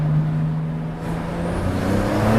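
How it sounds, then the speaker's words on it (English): BMW 335i with N54 twin-turbo engine, hybrid turbos and aftermarket exhaust, heard from inside while driving, a loud steady engine drone with a brief dip in pitch, then pulling strongly again. "Sounds like a better engine than it did with the other turbos."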